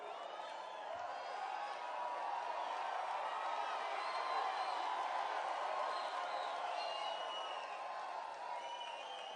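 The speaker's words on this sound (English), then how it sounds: "That's the crowd." A large rally crowd inside a convention center in Knoxville, Tennessee roars and cheers continuously, a broad distant wash of voices with scattered whoops rising and falling slightly.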